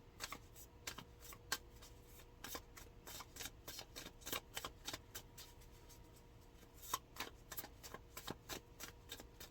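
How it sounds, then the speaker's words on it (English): Tarot cards being shuffled and drawn, a soft close riffling patter of quick flicks and snaps running steadily throughout at low volume, with no voices. "Pull a card for Capricorn"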